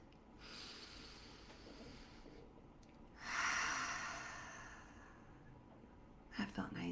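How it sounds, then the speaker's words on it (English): A slow, deep breath taken in calm quiet, a soft airy inhale swelling and then easing into a long exhale, close and gentle, with a small rustle near the end. "just take a deep breath."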